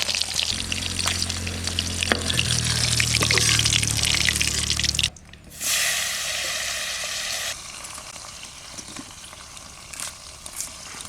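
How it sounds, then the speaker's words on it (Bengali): Tangra fish frying in hot oil gives a dense, steady sizzle for about five seconds over a low hum, then stops briefly. A softer hiss returns and settles into quieter bubbling. "কত লাল লাল মাছ ভাজছি, আরে টেংরা মাছ"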